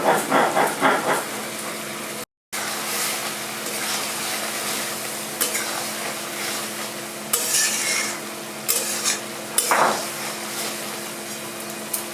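Green tomatoes fry in a pan on a home stove while being stirred, a steady broadband sizzle with scraping and clinking of a utensil against the pan throughout, with one brief dropout near the start.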